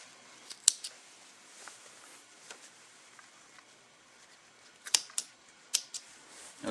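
Sharp, close snips of scissors cutting fabric thread at a Merrylock 2070/3080 overlock sewing machine, a few isolated clicks, then a quick cluster of cuts near the end, with quiet gaps between.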